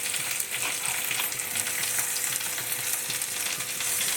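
Onions and other ingredients for matar paneer tipped all at once into a hot aluminium pan, a loud steady sizzle and frying hiss running without a break, close up.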